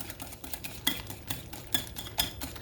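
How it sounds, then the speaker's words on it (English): A whisk beating banana pancake batter in a bowl gives quiet, rapid metallic clinks and scraping in an uneven rhythm, close by and with no talk. "And mix this up really good. Let me use a whisk."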